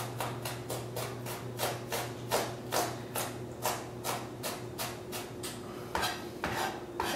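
A knife chopping a small red onion on a cutting board for pad thai, a quick, steady run of crisp taps close by and fairly quiet, with no talking.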